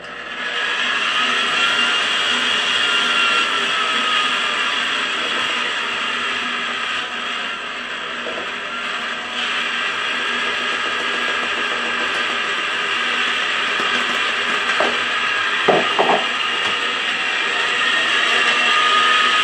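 An electric mixer runs steadily through low carb pound cake batter, a continuous whirring hum holding at an even level for the whole stretch, with a few faint clicks near the end.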